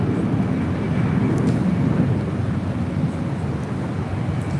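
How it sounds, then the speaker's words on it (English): A Lufthansa jet takes off from the north side of LAX, heard as a steady, fairly distant broadband roar that holds at an even level throughout, with no voices. "Maybe we'll have back-to-back takeoffs here on the north side."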